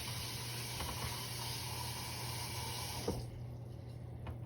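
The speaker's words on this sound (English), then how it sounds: "I like to put some water in it." Steady rush of water pouring from a tap into a pot for cooking green beans, continuous and close, easing off slightly near the end.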